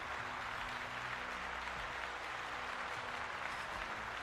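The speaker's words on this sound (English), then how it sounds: "So let's give them a little round of applause." Audience applause for members during a Dungeons & Dragons homebrew review stream, a steady broadband clapping wash that fills the whole stretch at moderate, fairly distant level with no talk over it.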